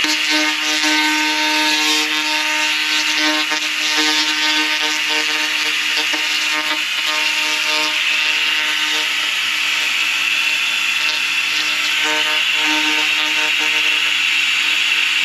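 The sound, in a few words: laser cleaner removing rust from metal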